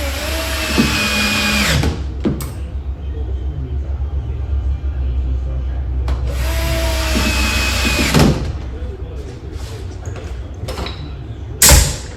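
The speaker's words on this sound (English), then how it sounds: "Last 2 screws going in." A power drill drives screws into a face frame in two sustained whirring runs, each ending with a shifting pitch as the screw seats, over a low rumble and a few tool clatters.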